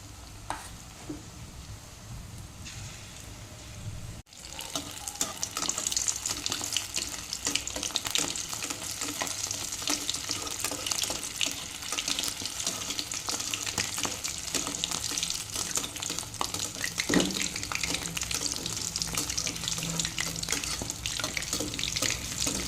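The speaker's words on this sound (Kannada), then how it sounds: "ನೋಡಿ ಇದನ್ನು ಮೀಡಿಯಮ್ ಫ್ಲೇಮಲ್ಲಿಟ್ಟು ಫ್ರೈ ಮಾಡಬೇಕಾಗ್ತದೆ ಯಾಕೆಂದರೆ ನೀರುಳ್ಳಿ ಹಾಕಿದ್ದೇನೆ" Onions fry in a pan on a medium flame with a continuous crackling sizzle and stirring scrapes. A brief quieter stretch at the start breaks off before the frying noise settles into a steady, moderately close hiss with no voices.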